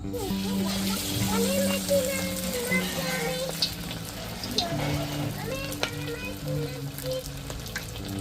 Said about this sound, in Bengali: এই হচ্ছে চিকেন পাকোড়া এই কড়াই ছাড়লাম